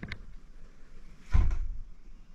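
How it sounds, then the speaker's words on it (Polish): An indoor door swings shut on its own in a hallway, a single dull thud of the door meeting its frame after some faint rustling and room noise. "Tu nie ma przeciągu, a drzwi się same zamykają."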